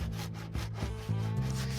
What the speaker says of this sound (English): we're gonna take our saw, cut a groove in it.